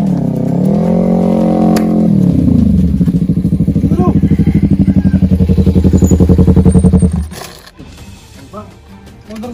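A broken-down motorcycle's engine revs up and idles with a rapid, rattling putter, loud and close, then cuts out abruptly near the end.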